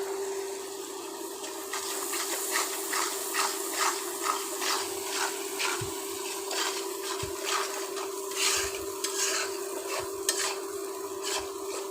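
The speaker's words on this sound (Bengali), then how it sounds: "মশলাটা খুব ভালোভাবে কষিয়ে নিয়েছি" Spice paste frying in a pan on a stove, a steady close sizzle with repeated scraping stirs and occasional low knocks, no voices over it.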